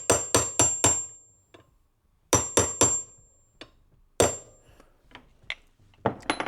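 A hammer taps a punch to drive a roll pin into a rifle lower receiver: crisp metallic strikes in quick bursts of three or four, then single blows and lighter taps, close and loud with ringing tails.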